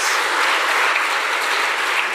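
An audience at an event celebrating a decade of showcasing Meghalaya gives the organising team warm, sustained applause, a steady wash of many hands clapping with no voices heard.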